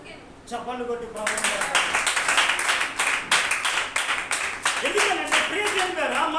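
A church congregation at a Sunday service claps their hands in a quick, steady rhythm that continues for several seconds, with a voice heard at the start and again near the end.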